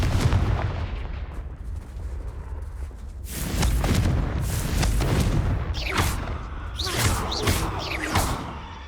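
The Confringo fire spell in Hogwarts Legacy sets off a loud booming blast with a rumbling tail, followed by several sharp crackling bursts that fade out, with no talking.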